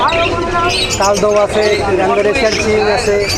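Caged pigeons of fancy, Giribaz and Gola breeds chirp and coo at the Nayabati pigeon market in Khulna, Bangladesh, their calls scattered under loud, constant talk from the crowd of traders and buyers.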